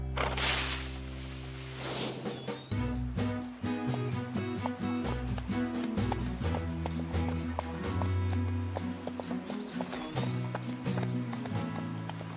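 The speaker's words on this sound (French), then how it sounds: "On va faire galoper les chevaux." Rhythmic hoofbeats clip-clop quickly and steadily, like horses galloping across a meadow in a cartoon, over a bed of music with a whoosh at the start.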